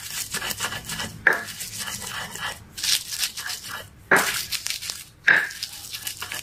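Chilies, shallots and garlic are crushed with a stone pestle in a stone mortar, giving close, gritty grinding and rubbing strokes with several sharp scraping hits, no talk over them.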